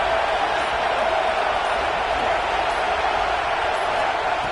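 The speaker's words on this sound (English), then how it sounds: "And here comes the noise. This crowd is trying to inspire this defense to make a big red zone stop." Stadium crowd roar in a college football video game, a dense, steady wash of cheering noise from many voices, loud and continuous without breaks.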